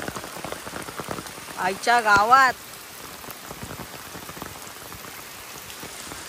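Steady rain falls outdoors along a roadside, a dense, even patter that runs through the whole stretch, with a brief exclaiming voice partway through.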